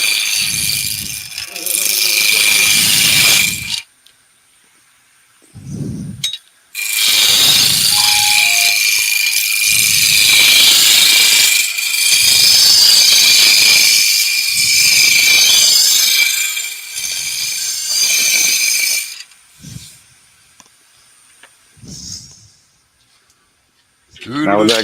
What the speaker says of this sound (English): that gouge that you just used, that roughing gouge